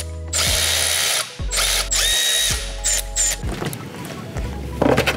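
A power tool loosens bolts to remove a Toyota Tundra Hybrid's intake: several loud, whirring bursts, each about a second long, with short pauses between them and a rattling ratchet-like buzz.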